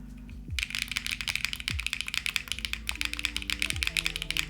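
Rapid clattering keystrokes from typing on a Cat65 mechanical keyboard fitted with 165 gram switches, a dense and fairly quiet run of clicks with no voice over them.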